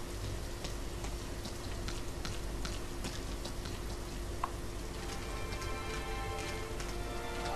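Steady rainfall in the video game Rain, a dense hiss of drops pattering on surfaces with scattered sharper ticks, constant and even throughout with no talk.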